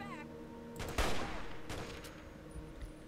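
A short burst of gunfire in a post-apocalyptic shooter game during a fight with a mole rat: a few sharp, loud shots close together near the middle, over a faint game background.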